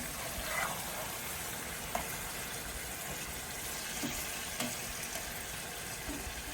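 Meat for a homemade lasagna meat sauce frying in a pan, a faint, even sizzle with occasional small clicks and taps of a utensil, no voices.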